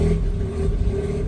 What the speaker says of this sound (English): let's see what happens if I rev it some